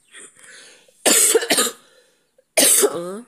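Three harsh coughs in a row, loud and close, each a rough burst with short gaps between, plus a faint earlier throat sound.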